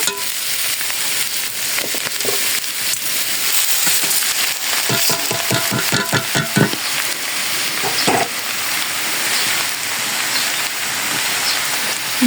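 Rice frying in a pan with salted vegetables, giving a steady, continuous sizzle with scattered stirring scrapes and clicks throughout, close and fairly loud.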